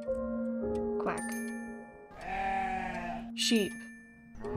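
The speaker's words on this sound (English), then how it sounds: "Sheep." Sheep bleating played as a sound effect in a puppet show, a wavering tonal bleat over a steady electronic hum and tones, with brief voice-like bursts before and after.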